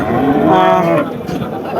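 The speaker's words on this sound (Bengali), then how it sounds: "মাংসের গরুগুলো এই যে সামনে আছে আপনারা দেখতে পাচ্ছেন" A cow gives one loud, close drawn-out moo at a busy rural cattle market where cows are sold for Eid sacrifice, followed by lower market murmur.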